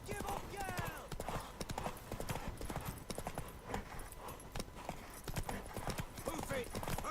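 Rapid clip-clop of horse hooves galloping in a race in the game The Witcher 3, a steady drumming rhythm close by, with voices calling out over it and a brief whinny.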